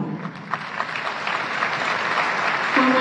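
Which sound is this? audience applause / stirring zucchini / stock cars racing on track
audience applause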